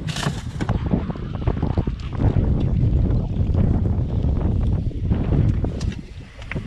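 Wind gusting over open sea on a fishing boat out for bluefish, a steady loud broadband rush with microphone buffeting and water slapping the hull throughout.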